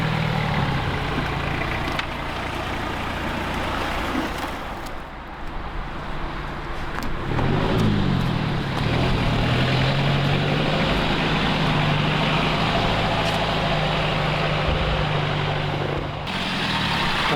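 A Jeep in four-wheel drive climbs a small slope, its engine a steady, loud, close drone that swells slightly partway through and holds its labouring rumble to the end.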